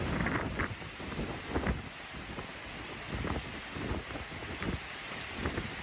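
Strong storm wind buffeting a microphone during a severe storm in the United States, a loud, continuous roaring rush with irregular gusty thumps and surges throughout, no voices.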